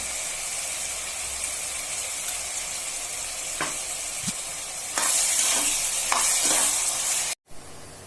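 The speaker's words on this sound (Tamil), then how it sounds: "இதை 5 நிமிஷத்துக்கு மேல கொஞ்சம் நல்லா வதங்கணும். அது கோல்டன் ப்ரௌன் வர வரைக்கும் நம்ம வதக்கினே தான் இருக்கணும்" Onions for chicken biryani sizzle steadily in hot oil in a pan, with a spoon stirring and scraping through them; the frying grows louder partway through and breaks off abruptly near the end, no voices.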